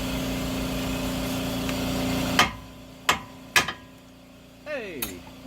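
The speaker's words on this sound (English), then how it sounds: "a tap with a hammer" A hammer taps a car tie rod end, giving a few sharp metallic knocks with ringing decay, close by. A steady mechanical drone fades out before the taps.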